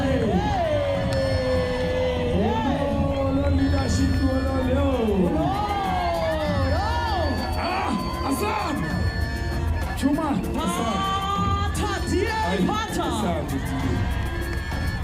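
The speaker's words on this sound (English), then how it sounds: "Let's give them a round of applause." A crowd at a political party manifesto launch rally in Pretoria cheers, whoops and shouts continuously, loud and dense, with babble throughout and no pause.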